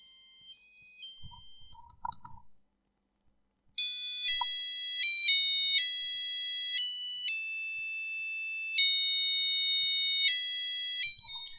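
A passive buzzer driven by an Arduino plays a melody of harsh, shrill electronic tones that change pitch step by step and run on continuously, loud, after a few quieter beeps and clicks at the start.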